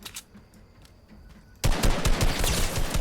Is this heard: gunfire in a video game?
yes